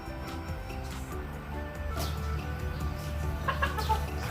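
Backyard chickens cluck and murmur close by, a cluster of short irregular clucks and squawks over a low background hum, becoming busier toward the end.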